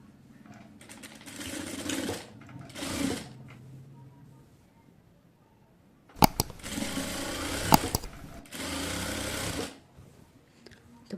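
Sewing machine stitching the body seams of a home-sewn top, running in short bursts of a few seconds separated by pauses, loud and close with a rapid mechanical whir.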